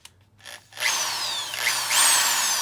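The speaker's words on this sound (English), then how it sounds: "I'm gonna drill it right into there" A power drill whirs up to speed after a couple of short starts, then runs steadily and loudly close by, its pitch rising and dipping slightly, drilling during a fuel line repair on a Mitsubishi 3000GT VR4.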